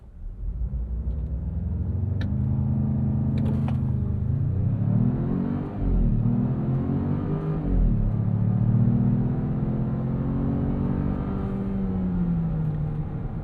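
A 2026 Jeep Grand Cherokee with the Hurricane turbo engine, in sport mode, launches off the line; a loud, close engine roar rises through gear changes with brief dips, a steady low rumble sustained for the whole run.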